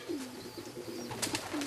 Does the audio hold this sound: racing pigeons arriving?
yes